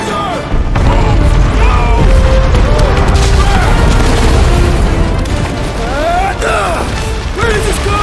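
Loud, sustained explosion-filled chaos in Guardians of the Galaxy: booming blasts, crashing debris and mechanical clatter continue for several seconds, with voices and whooshing effects mixed throughout.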